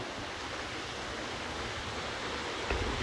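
The Antharganga waterfall in dense forest roars as a steady, dense rush of falling water, continuous and loud from start to finish.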